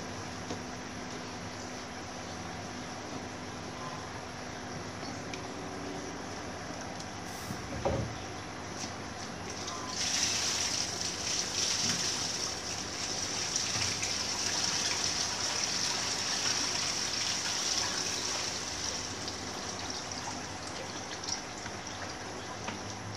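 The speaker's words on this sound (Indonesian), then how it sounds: "Kita buang dulu airnya." Water gushing and splashing steadily as a glass eel quarantine tank is drained, a continuous broad wash that swells louder midway and stays fairly close, with no talk.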